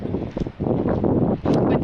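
Gusty wind buffets the microphone on a warm day at the beach in Brighton: a steady, loud broadband roar that dips briefly twice, with no speech.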